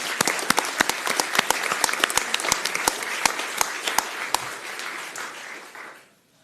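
Applause at an Orange County Board of County Commissioners meeting for county employees posing for a photo, with dense claps from a modest group, a few sharp close claps standing out, then tapering off near the end.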